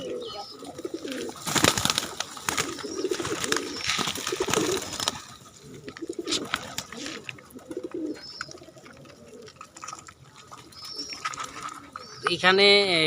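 Native-breed pigeons coo repeatedly in low, throaty murmurs, with wing flutters and scattered bird calls around them and a few brief voices in the background.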